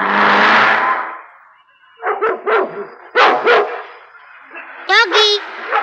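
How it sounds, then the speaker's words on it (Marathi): A dog barks close by in several short, sharp bursts, ending with a higher yelping bark, after a brief wash of noise at the start. "भुंकू नको माझ्यावर."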